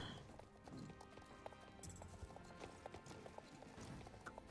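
A horse in the game Star Stable Online gallops over ground, its hooves drumming in a quick steady clip-clop, moderately loud and continuous.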